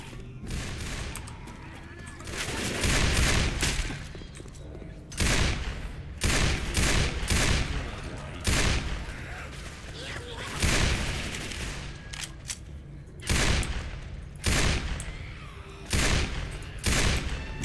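Gunfire in Left 4 Dead comes as repeated loud bursts and single shots in uneven clusters, with players talking between volleys.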